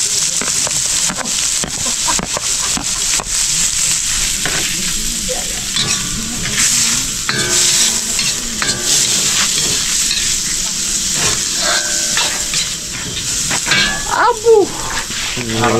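Garlic and onion frying in a pan give a continuous bright sizzle with stirring scrapes and clatter, close and fairly loud throughout.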